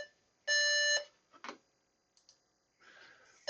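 A computer gives a startup beep code: one steady high-pitched electronic tone lasting about half a second, followed by a few faint clicks and a burst of soft hiss, heard close and alone.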